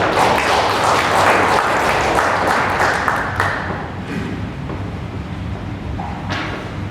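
An audience at a Korean national academic conference applauds as a speaker is introduced; the dense clapping is loud and close at first, then thins and tapers off into a quieter, scattered patter by the end.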